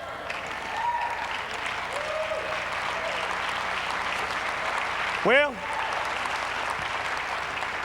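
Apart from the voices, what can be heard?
congregation clapping in church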